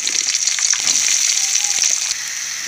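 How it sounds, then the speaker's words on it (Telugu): Onions fry in a pan for chicken curry, giving a loud, continuous crackling sizzle up close that eases slightly near the end. "ఉల్లిపాయలు బాగా ఫ్రై అయిన దాకా చేసుకోవాలి"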